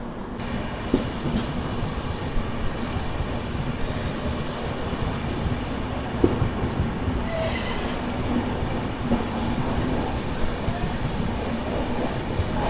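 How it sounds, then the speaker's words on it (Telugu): Godavari SF Express pulls out of Tadepalligudem station, its carriages rumbling steadily with a soft rhythmic clatter of wheels and occasional thin metallic squeals rising and fading over a continuous low roar. "మన ట్రైన్ వచ్చేసి తాడేపల్లిగూడెం నుంచి అయితే బయలుదేరిపోయింది."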